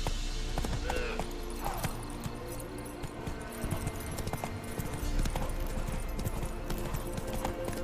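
Roach the horse's hooves clip-clopping in The Witcher 3, a steady rhythmic trot of hoofbeats close by with game ambience underneath.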